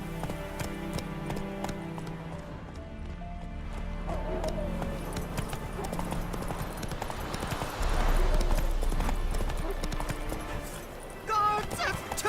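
Roach the horse galloping in The Witcher 3: Wild Hunt, with hooves clopping in a steady rapid rhythm that runs throughout over busy game music and ambience.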